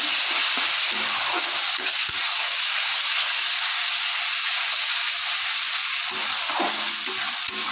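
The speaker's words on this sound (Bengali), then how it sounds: "মশলাটাকে একটু কষিয়ে নিচ্ছি চিংড়ির সঙ্গে" Spice paste fries with prawns in a pan, a loud continuous sizzle and hiss with faint stirring scrapes and no talk.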